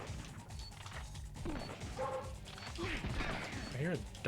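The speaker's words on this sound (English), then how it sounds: "I hear a dog barking" A dog barking in the 2001 video game Spider-Man 2: Enter Electro, several short yips and barks heard fairly close over a low game soundscape with clanking mechanical noise.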